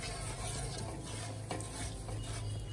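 Sugar and date-palm jaggery being mixed together for a semolina and milk pitha, a steady scraping stir with faint clicking and no voices.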